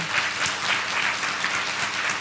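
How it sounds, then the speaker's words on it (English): A conference audience breaks into brief, dense applause after a talk, with many hands clapping in an even, close-sounding burst and no voices over it. "So huge round of applause to Mahmoud."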